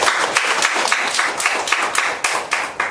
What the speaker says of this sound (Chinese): 在此我们给他们一个鼓励掌声